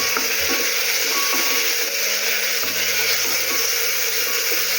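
Tomato and onion frying in a pan for an elephant foot yam curry, giving a steady broadband sizzle throughout with faint hums and occasional light clinks, no talking.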